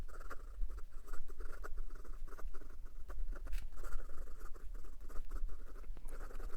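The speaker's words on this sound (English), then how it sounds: "And some quick writing" A fountain pen scratches quickly across paper in a steady run of short, dense strokes, close and fairly quiet, with no voices.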